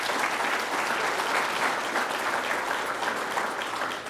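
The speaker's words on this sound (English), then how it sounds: "Let's give him a round of applause as well." Warm, continuous audience applause at a state governor's grand opening event for a lodge at Schroon Lake, steady and fairly close, tapering slightly at the very end.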